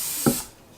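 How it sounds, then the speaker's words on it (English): Cooking spray spritzes lightly onto the bottom of a mixing bowl in a single short, close hiss, followed by quiet room tone. "Lightly spray it with that cooking spray."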